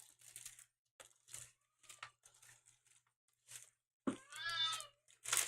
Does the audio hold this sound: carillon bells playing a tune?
no